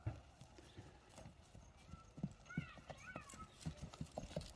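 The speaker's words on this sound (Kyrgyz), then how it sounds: "Бир мындай бастырып нары бери кагып көрчү, ат кандай экен бир көрөлү." A bay horse at a Kyrgyz horse sale is walked back and forth, its hooves clip-clopping in a steady, close rhythm while people talk nearby and a brief whinny-like call rises midway.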